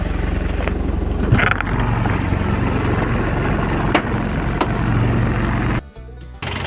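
Diesel engine of a Nissan Big M single-cab pickup idles loudly close up, a rough continuous rumble with irregular clatter, then drops abruptly to a quieter hum near the end.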